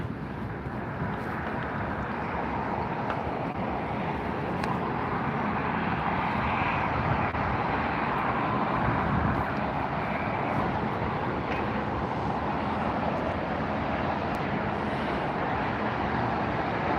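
A Boeing 777 airliner at LAX roars steadily with its jet engines, a loud sustained broadband rumble that holds through the whole stretch with no talking.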